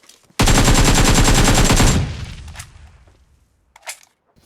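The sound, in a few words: gunfire while shooting an enemy in a battle royale video game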